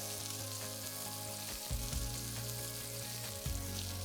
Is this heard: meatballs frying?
yes